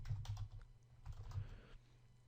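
Typing on a computer keyboard while writing JavaScript code, a quiet run of close key clatter in a few bursts with brief pauses between them, with no talking.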